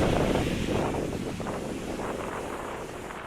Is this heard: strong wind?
yes